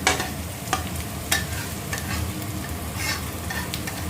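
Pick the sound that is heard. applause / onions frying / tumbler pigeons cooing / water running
onions frying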